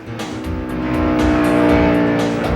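NASCAR stock cars racing in the 1994 inaugural Brickyard 400 at Indianapolis Motor Speedway, a loud sustained engine roar with layered revving as the field streams past, some cars diverting onto pit road.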